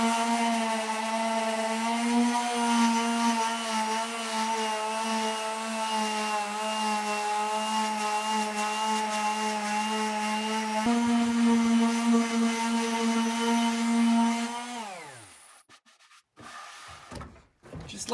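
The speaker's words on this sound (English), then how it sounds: "let's sand this up a little bit" An electric power sander works a live edge wooden countertop for a cabin, a loud steady motor hum with a grinding rasp, shifting pitch briefly, then winding down and stopping near the end.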